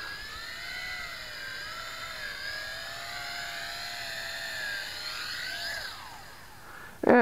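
A Tarantula X6 quadcopter drone hovers and descends to land outdoors in light wind, its motors a steady, high whirring whine that shifts slightly in pitch, ending in a brief bump at touchdown.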